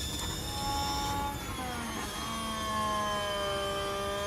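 A Formula 1 car engine in the F1 Manager 24 racing game at Abu Dhabi holds a steady, high, whining drone, its pitch sliding gradually down and back up as the car passes through gears at a constant loudness.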